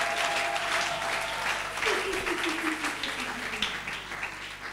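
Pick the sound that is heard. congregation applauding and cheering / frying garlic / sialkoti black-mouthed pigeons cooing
congregation applauding and cheering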